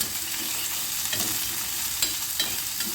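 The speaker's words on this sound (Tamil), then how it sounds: "அதே மாதிரி 1/2 கப்பு பூண்டு அதையும் போட்டு சேர்த்து நல்லா வதக்கிக்கணும்." Large and small onions with half a cup of garlic sautéing in oil for a tamarind curry, a close steady sizzle broken by periodic stirring scrapes, no speech.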